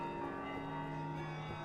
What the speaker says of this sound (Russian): нас этот звон куда-то зовет